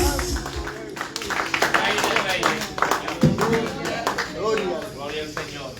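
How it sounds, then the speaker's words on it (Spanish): A church congregation claps during a prayer service, a steady patter of hands under music and voices, with talk running over it throughout. "Dale un aplauso fuerte"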